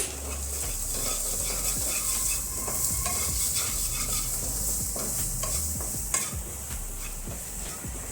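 A spoon stirs red chili and Kashmiri chili powder into white chickpeas frying in a pan over a low gas flame. The scraping and stirring runs steadily over a constant oil sizzle, close and alone.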